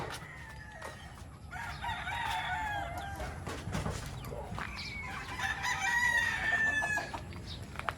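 A gamecock rooster at a breeder's farm crows twice in long, drawn-out calls, with soft clucking and other fowl murmuring in the background between the crows.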